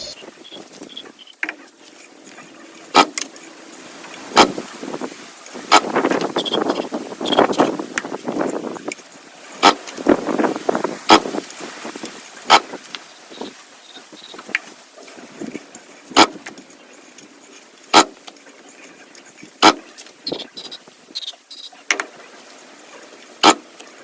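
Repeated pull-starting of a 1945 Evinrude 9.7 HP outboard motor sprayed with WD-40 and carb cleaner: sharp recoil-cord yanks in small bursts, with brief sputtering, rattling engine attempts in the middle, close and fairly loud.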